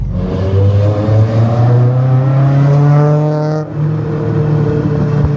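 A Honda Civic Si, eighth generation, swapped from a K20 to a K24 engine, revs with a deep, steady rumble and rising harmonic tones that hold loud and close for several seconds, briefly dipping before resuming.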